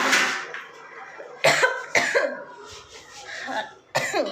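A person nearby coughs harshly several times in separate loud bursts spaced through the moment, with throaty breaths and faint vocal sounds between them.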